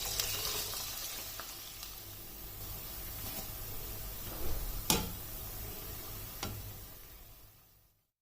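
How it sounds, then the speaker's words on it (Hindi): Onions sizzle in oil heated over a medium flame, a close, steady crackle with a couple of sharp utensil clicks, fading out at the end. "अब इस तरह से ऑनियन को इसमें डाल देना है।"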